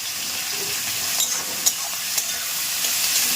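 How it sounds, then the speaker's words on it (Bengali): Onions frying in a pan, a steady close sizzle with faint occasional clicks of stirring and no voices. "ততক্ষণ আমরা পেঁয়াজটাকে সুন্দর করে ভেজে ভেজে নিই"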